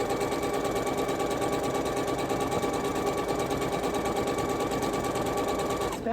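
A sewing machine stitches a project in a fast, steady, loud mechanical chatter that runs without a break, stopping abruptly at the very end.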